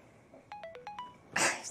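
A short mobile phone message alert plays alone indoors: four quick clear electronic tones in a rising-and-falling pattern over about half a second, followed by a sudden burst of broadband noise.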